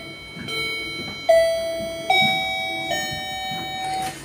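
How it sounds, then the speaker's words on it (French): A freshly reconnected home doorbell chimes in a series of sustained, ringing electronic tones, several notes stepping one after another, loud and close in a quiet room. "J'ai rebranché la sonnette."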